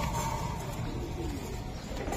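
Pet racing pigeons, Chila and similar Giribaz breeds, coo softly in a loft, a low throaty warble running continuously up close under a background hum.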